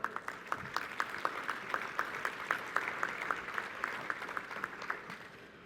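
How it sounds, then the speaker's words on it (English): An audience at the COP10 opening session claps steadily, a sustained round of applause with even, fairly dense hand claps that fades slightly toward the end. "I think this applause also applies to the other 3 countries"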